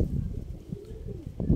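A single checkered, velvet-coloured one-loft race pigeon coos softly and close by, a low rolling call that swells and fades over about a second with no voices.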